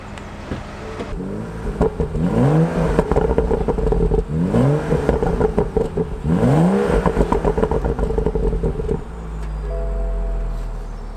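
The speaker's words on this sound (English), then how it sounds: "Alright, that's enough revving." A 2016 BMW M235i revs hard three times in quick succession, each blip rising and falling sharply, close and loud with a throaty rasp, before settling back to a steady idle.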